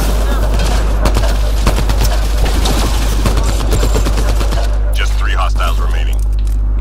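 Loud, rapid gunfire from a multiplayer match of Mass Effect Andromeda, continuous bursts and rattling shots packed close together for most of the stretch, with a sustained low rumble beneath and a voice-like tonal sound near the end.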